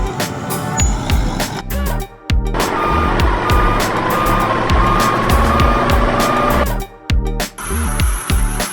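A bulldozer engine rumbles loudly up close while a reversing alarm beeps in a steady repeating pattern, broken by a couple of short gaps in the sound.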